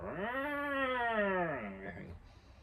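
A person's voice imitates an angry cat with a long, loud, wavering yowl that rises, holds and then drops away, followed by a brief quieter trailing sound.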